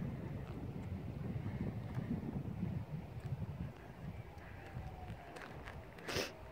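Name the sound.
wind blowing outdoors at a lake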